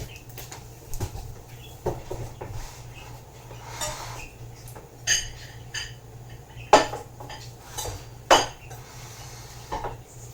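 Pots and a skillet are handled on a home stove while Cajun mac and cheese is started, giving scattered clanks and clinks of cookware and utensils at close range with no talking.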